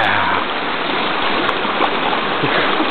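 Angel Falls, a waterfall and stream at Big South Fork, gives a loud, constant rush of whitewater close by with no break. Nobody speaks.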